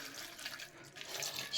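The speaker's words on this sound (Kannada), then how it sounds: "ಇವಾಗ ಇಲ್ಲಿ ನಾನು ಕೋಲ್ಡ್ ನೀರು ಹಾಕ್ತಾಯಿದ್ದೀನಿ" Cold water poured into a mixer jar holding cut apple pieces, a soft continuous splashing trickle heard close but quietly, with no clear talking.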